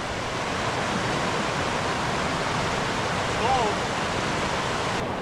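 Steady broadband rush of flowing water beside the Ramsey Cascades trail in the Great Smoky Mountains, a constant loud stream or small waterfall filling the scene with no pauses.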